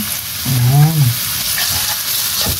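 Laing with garlic is stirred in a frying pan under a steady, close broadband sizzle, with a short voiced tone rising and falling near the start.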